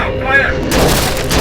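An Indian Navy naval gun fires once, a sudden loud broadband blast that follows a short tonal sound and lingers as a rumble.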